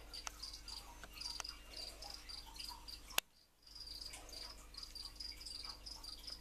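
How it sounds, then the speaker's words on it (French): Crickets in a breeding enclosure chirp steadily and shrilly at close range, pausing briefly in the middle and then resuming, with no voices. "Donc ici, c'est mon élevage de grillons."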